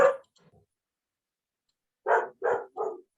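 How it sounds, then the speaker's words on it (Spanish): A small dog barks three times in quick succession, moderately close, after a brief soft whimper-like sound and a pause, with no talk over it. "Perrito"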